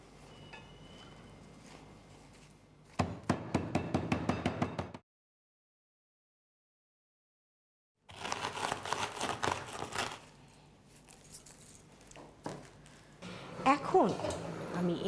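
Fried bori (lentil dumplings) being broken up on paper in a home kitchen: quick bursts of rapid crackling and crinkling, then a silent gap, then longer rustling crunches with some faint background noise.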